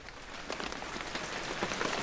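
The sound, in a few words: rain falling on dry leaves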